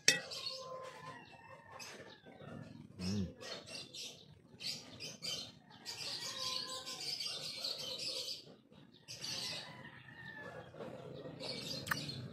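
Birds chirp and tweet outside in the morning, fairly faint and scattered, with irregular calls coming and going over a quiet background.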